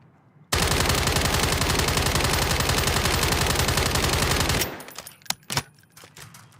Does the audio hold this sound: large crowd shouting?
no